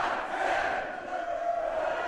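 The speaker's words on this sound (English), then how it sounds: "Count along with the crowd here at Concord." A wrestling crowd at an All Pro Wrestling show in Concord, California roars in unison, a sustained chanting cheer from many voices filling the room without a break.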